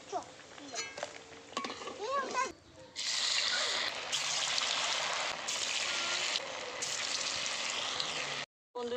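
Oil sizzles and crackles steadily as sago fritters fry, preceded by a few seconds of talking, with the frying hiss continuing loudly afterward.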